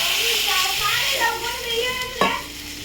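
Water hits a hot pan of curry with a steady broad sizzle and hiss, a stirring clatter near the end, heard close up.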